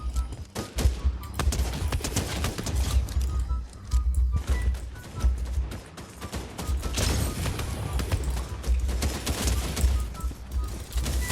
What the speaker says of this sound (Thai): มีคนยิงตรงเนี้ยผมไม่เห็น